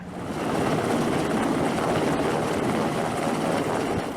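A military helicopter used by Marines for fast-rope ship boarding gives a continuous, loud, broadband rotor and engine roar that holds steady for several seconds.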